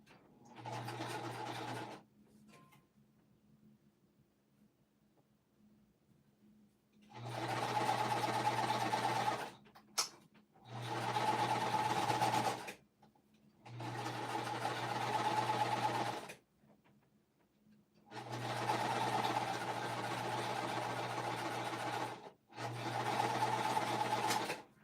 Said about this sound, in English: I'm just going to kind of hold it as I sew and make sure it stays aligned.